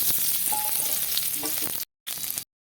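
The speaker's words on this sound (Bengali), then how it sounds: "যে তেলে পটল ভেজেছিলাম সেই তেলে দিয়ে দিচ্ছে ফোড়ন শুকনো লঙ্কা দারচিনি লবঙ্গ এলাচ" Dried chili, cinnamon, clove and cardamom fry in oil left from frying pointed gourd, giving a close, bright sizzle with small crackles, cut by two brief silent gaps.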